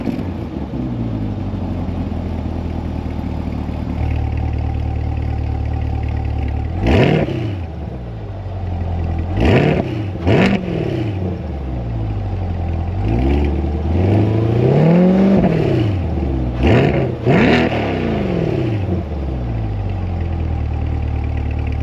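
A 2026 Chevrolet Corvette engine idles with a deep rumble, then revs sharply several times, the exhaust rising and falling in loud bursts.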